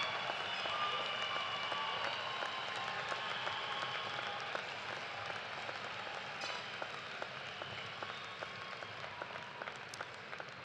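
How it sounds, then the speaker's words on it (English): A large audience applauds at a University of Toledo spring commencement ceremony, dense steady clapping sustained throughout without a break, slightly easing toward the end, with no speech over it. "please join me one more time in a round of applause for these family members, friends, loved ones who could not"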